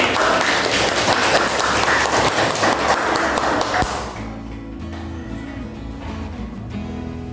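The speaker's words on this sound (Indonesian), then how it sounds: "Tepuk tangan kangge kelompok" A group of people claps for a presenting group at a school gathering, producing a few seconds of busy, fairly close applause that stops abruptly, leaving a quiet room hum with faint tonal ringing.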